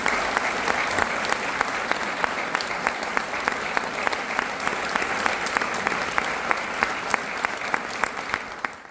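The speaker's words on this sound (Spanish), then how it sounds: "Un último aplauso para despedirnos esta noche." An audience gives sustained applause at a solemn honorary doctorate ceremony at Universidad del Valle, a dense, loud, steady wash of clapping hands lasting the whole stretch with sharper individual claps poking through.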